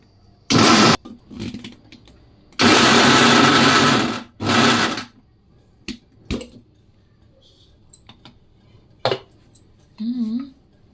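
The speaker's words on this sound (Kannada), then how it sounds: "ಒಂದೆರಡು ರೌಂಡ್ ಮಿಕ್ಸಿಲಿ ಹೊಡೆದ್ರೆ ನೋಡಿ ಹಿಂಗೆ ಬರುತ್ತೆ" Short bursts of a loud whirring motor, a kitchen mixer grinder switched on and off a few times while grinding for moong dal upittu, with clatter and quiet sounds between.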